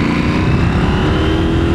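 A 2023 KTM 890 SMT motorcycle engine drones at a steady pitch while riding on local roads, loud and close, with wind and road noise underneath.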